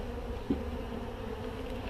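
Honeybees in an open backyard hive hum in a steady, dense drone throughout, close and continuous, during a frame inspection.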